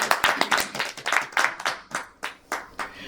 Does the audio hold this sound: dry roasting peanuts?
no